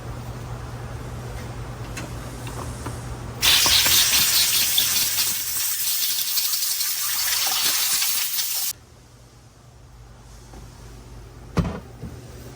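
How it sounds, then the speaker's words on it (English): Water sprays in a steady hissing burst for several seconds onto truck engine valves against a low background hum, then cuts off abruptly. "So now I'm just gonna spray it off"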